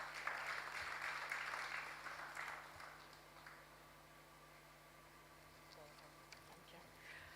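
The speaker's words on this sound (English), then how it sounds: "Please let's give her a round of applause." Faint applause from an audience at a survey launch event lasts a few seconds, then dies away into a quiet room with a low steady hum.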